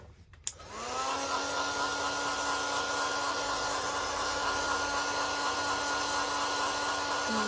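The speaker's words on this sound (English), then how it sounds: "I'm just going to dry them off a bit with my heat tool" A craft heat tool blows steadily while drying paper for junk journal pages, switching on with a click and then running loudly and evenly as a constant close whirring hiss with no talk.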